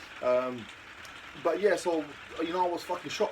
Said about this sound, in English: excuse the noise here because it's raining